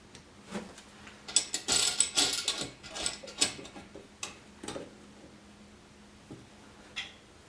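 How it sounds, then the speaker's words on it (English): Metal nuts being tightened by hand on the back of a heat shield on a Bradley electric smoker, giving a quick run of close ratcheting clicks and scrapes, then a few sparse ticks and taps. "tighten up the nuts on the back, finger tight"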